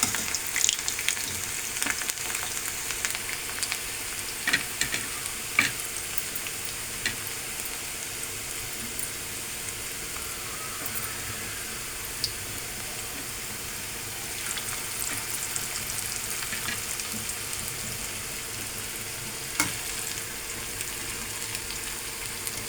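Cauliflower pakodi deep-frying in oil on a low flame, giving a steady, even sizzle that runs throughout with small crackles and occasional stirring clinks, close and moderately loud, with no talking.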